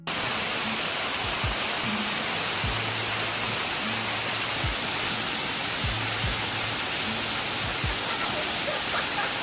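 A Bali waterfall roars as a dense, steady wash of falling water that fills the whole clip. Faint low thumps show through now and then.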